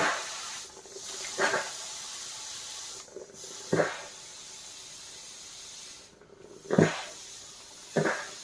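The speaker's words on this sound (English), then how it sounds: "just going to blast some steam through it." Steam is blasted through a damp rag onto Recaro seat foam from an Escort RS Turbo in short hissing bursts, four or five sharp spurts separated by quiet pauses, close and fairly loud.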